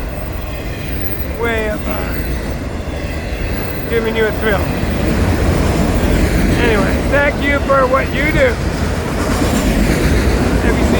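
An FEC freight train rolling past, a loud steady rumble of wheels with repeated horn blasts, while someone talks over the noise.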